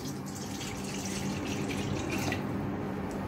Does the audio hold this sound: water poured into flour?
yes